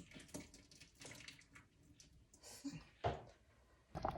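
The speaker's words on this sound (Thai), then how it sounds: "เดี๋ยวไปเทน้ำออกนิดนึงเทน้ำออกนิดนึงค่ะ" Water is poured out of a cooking pot in several short, uneven splashing bursts, close but quiet, with kitchen clatter between them.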